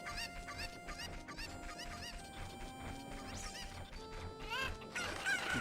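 Cucco chickens in Zelda: Ocarina of Time Master Quest cluck repeatedly in quick, faint bursts over game music, with a brief crash near the end.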